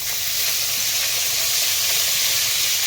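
Mejenga leaves dropped into hot oil in a wok give off a loud, steady sizzle and hiss that stays constant throughout, with no talking.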